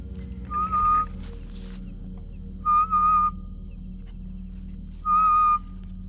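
A man in Kenya's Kakamega Forest whistles one clear, high note three times at even intervals, each short and bright against a quiet forest hum.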